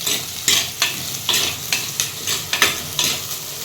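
Small onions and garlic sautéing in a clay pot, with repeated scraping stirs over a steady soft sizzle, close and moderately loud, no talking.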